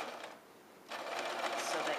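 Domestic sewing machine running a seam around a pettiskirt, the motor starting after a brief lull and then whirring steadily and close for the rest of the moment.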